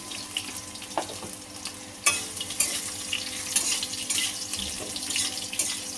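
Fried potato pieces being stirred in a pan for an ilish fish curry with eggplant, giving scraping, shuffling stirs over a steady sizzle, with clattering bursts at moments and no talking.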